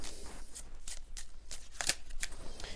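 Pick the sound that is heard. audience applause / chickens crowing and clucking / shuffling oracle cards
shuffling oracle cards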